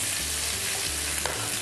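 Potatoes and sweet potatoes sauté in a hot pan, a steady dense sizzle with faint stirring scrapes, close and continuous with no talking.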